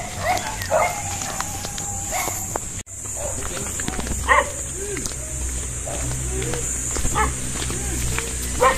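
A dog at a garden swimming resort in Nasugbu, Batangas, gives several short scattered barks and yips at mid distance, mixed in with background noise and people talking.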